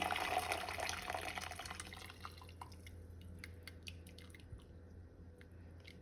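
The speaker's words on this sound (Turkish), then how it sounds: "Gelelim 3 dakika haşlandıktan sonra şu şekilde süzüyorum." Boiled green beans poured into a strainer, a rush of draining water that tapers into scattered drips and trickles.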